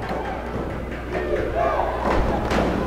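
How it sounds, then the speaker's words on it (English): Home crowd roaring at a Florida Basketball Association game between the Palm Beach Knights and Florida Flight, a steady loud arena din that swells toward the end, with thumping from the stands and no clear talk. "Listen to this crowd."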